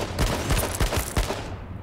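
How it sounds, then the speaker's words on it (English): Shotgun fire in H1Z1 King of the Kill, a rapid burst of four or five loud blasts about a third of a second apart, with the last ones tailing off. "He's trying to shotgun me?"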